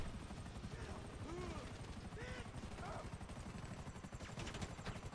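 A police helicopter in GTA Online makes a steady, loud rotor drone that fills the scene, with faint rising game tones above it.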